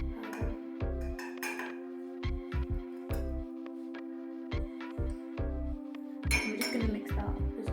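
A spoon clinks repeatedly against a ceramic mug while stirring chocolate mug cake batter, with bright, ringing taps in uneven bursts, close and clear.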